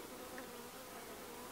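Honey bees buzzing in an open hive being checked for queen cells, a constant thick droning hum close by, faint overall and unbroken.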